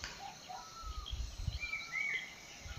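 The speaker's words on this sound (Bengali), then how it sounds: "পাখির ডাক" Birds chirp and call softly at a distance in a quiet early-morning outdoor setting in Tinchula, with a low rumble of wind or traffic underneath.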